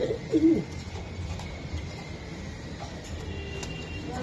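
Club racing pigeons cooing in a loft, a soft low coo heard close near the start, then a muffled hum of background noise with faint distant rumbling.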